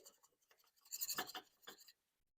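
A whisk scrapes and rasps through a flour mixture in a pot while making pai bao dough, soft rhythmic strokes that build briefly then trail off, faint and close with no talking.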